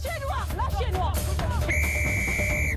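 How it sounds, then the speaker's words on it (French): A sharp, sustained referee's whistle blast sounds over a lively crowd babble at a women's Six Nations rugby match, Ireland vs France, following a stretch of chatter and voices. "Ces coups de sifflet font autorité."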